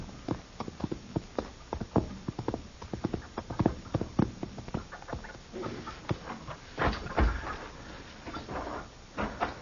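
Steady clip-clop of horse hooves on a hard surface, a quick irregular series of sharp knocks at close range, with no voices.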